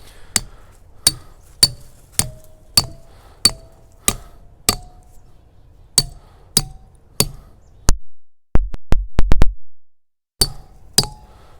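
A hammer taps steel wedges and feathers driven into rock to split it, a steady series of bright metallic clinks about twice a second, close and alone, with a brief cluster of duller heavier knocks near the end.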